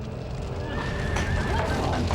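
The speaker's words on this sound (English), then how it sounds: "As Rose continued to struggle with the frightened horses" Frightened horses whinny and neigh near a fire, a sustained shrill call over a dense rumbling background with hoof clatter, close and loud.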